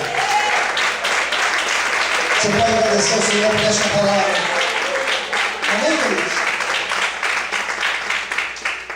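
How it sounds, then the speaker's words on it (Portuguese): A church congregation applauds at a Portuguese-language service, a dense, sustained wash of clapping that fills the room while a preacher keeps talking over it. "Você pode aplaudir a Deus por essa palavra?"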